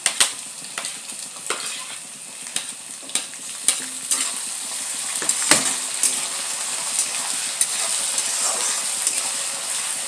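Onion, ginger and garlic fry in a pan, a steady broadband sizzle with repeated sharp scrapes and clinks of stirring, fairly close and loud throughout.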